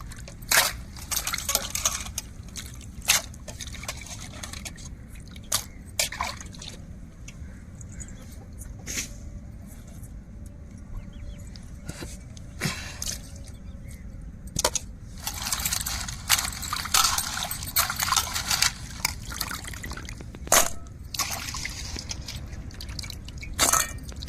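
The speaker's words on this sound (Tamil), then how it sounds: "நல்லா தண்ணியை ஊற்றி அலசி எடுத்துக்கிடுவோம்" Water splashing and dripping with crab shell pieces clattering in a bowl, in repeated bursts as the crab pieces are rinsed by hand.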